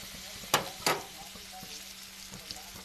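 Green chilies frying in oil on a home stove, a faint steady sizzle broken by two sharp crackling pops near the start and a few softer ones later.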